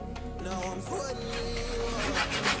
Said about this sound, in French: je prends ma scie japonaise, je prends le plus fin des deux, je me glisse dedans